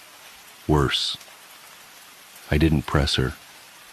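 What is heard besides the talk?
rain falling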